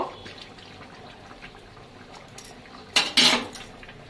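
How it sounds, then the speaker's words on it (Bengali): A lid is set onto a pan of prawn malai curry with ghee and garam masala, giving a close metallic clatter and scrape, a sharp clank near the end, after a quiet stretch of faint kitchen noise. "এবার আমি একটু ঢেকে দিয়ে দেব"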